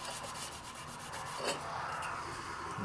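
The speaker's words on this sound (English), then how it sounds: "you guys can see I'm using good scrubbing action" A firearm part is scrubbed with cleaning components, giving a soft, continuous back-and-forth rubbing that stays quiet and close with no pauses or voices.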